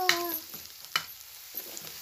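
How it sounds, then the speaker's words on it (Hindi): Garlic added to hot oil while cooking a restaurant-style paneer curry, a soft sizzle with a few light clinks of a spoon stirring in the pan, close and brief, with no voices. "ये डाल दिया लहसुन, इसको भी भून लेंगे अच्छी तरह से।"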